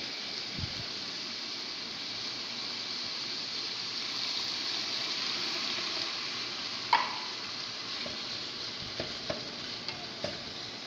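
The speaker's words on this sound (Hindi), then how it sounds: "आलू गलने के लिए हम थोड़ा सा पानी डालेंगे।" Sizzling and bubbling fill a pan of potato and mince curry as a little water goes in, a steady hiss throughout with a few small clinks and taps near the end.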